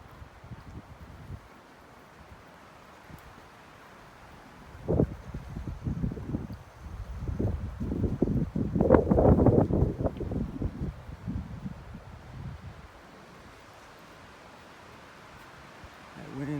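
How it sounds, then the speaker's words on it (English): Strong wind gusts sweep across a forested hillside on a hike, building from a low steady rush to a loud roaring peak before easing back, with rustling through the trees. "That wind's a whipping up here."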